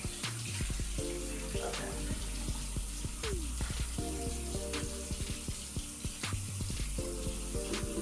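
Running tap water splashes steadily in a sink while someone rinses off an at-home facial, with close irregular drips and splashes throughout and one brief spoken word.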